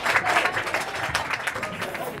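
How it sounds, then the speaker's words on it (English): Audience applause and cheering fill a bar during a charity auction at a festival fringe event, dense and steady clapping close by throughout, with some voices mixed into the crowd noise. "Can we have a round of applause, please, for that gentleman?"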